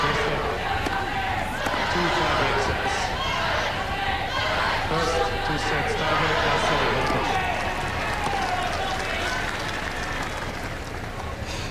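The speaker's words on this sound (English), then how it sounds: "Listen to this applause for Jelena." Tennis crowd at the Australian Open applauding and cheering for Jelena Dokic, a sustained roar of clapping and voices from a large stadium audience, fairly loud and continuous, with a commentator's voice faintly under it.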